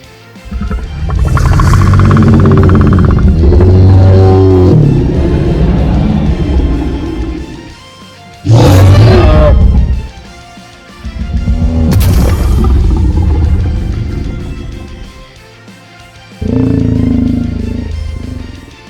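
Creatures roar in the game Creatures of Sonaria: four loud, separate bellowing roars with gargling, growling texture, each lasting a few seconds with short silent gaps between them.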